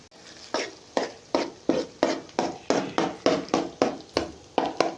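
Egg frying and being stirred in a pan, with about a dozen regular scraping strokes that each fade into a soft sizzle, close and moderately loud.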